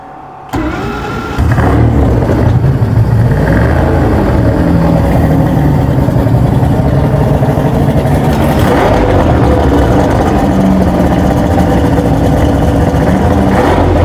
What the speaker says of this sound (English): And you're good to run your engine.